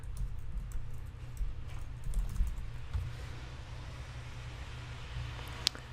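A computer keyboard is typed on to enter a web search, with soft, fast key clicks running steadily under a low background hum and a single sharper click near the end.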